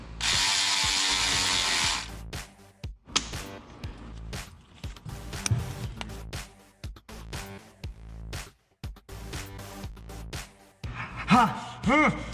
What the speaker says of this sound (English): We're tightening up the hose clamps, going to the throttle body.